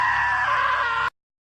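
A man lets out a loud, strained scream in the video game What Remains of Edith Finch, held steady for about a second before cutting off abruptly into silence.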